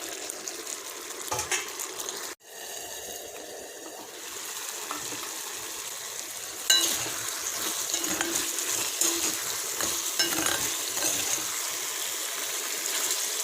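Okra and tomato fry in a covered pan while the water cooks off, giving a steady soft sizzle with occasional stirring clinks and a brief pause near the start.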